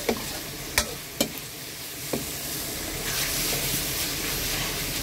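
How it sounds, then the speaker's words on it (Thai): Food being stir-fried dry in a pan, with a steady, close sizzle and a few sharp scraping clacks of a utensil against the pan near the start, heard alone. "จะผัดแห้งๆเลย"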